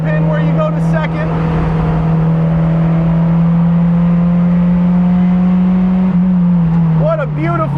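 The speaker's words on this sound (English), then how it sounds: "What a beautiful, balanced little race car this is." A 2017 Mazda MX-5 Cup race car lapping a track, its engine a loud, close, steady high whine held in gear with rising revs near the end, heard from the cockpit with a driver talking.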